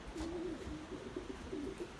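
Pigeons coo in soft, repeated low phrases close by, with steady wind noise underneath and no talking.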